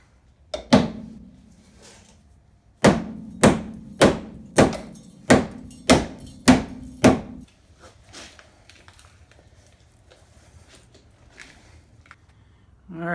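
Sharp metal hammer blows bend a rusty Jeep Cherokee floor pan back into shape: one strike, a pause, then a fast run of seven evenly spaced ringing hits, followed by quieter shuffling.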